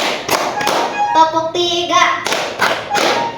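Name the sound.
students clapping hands in a counting game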